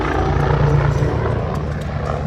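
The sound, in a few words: Red Bull twin-engine helicopter flying at an air show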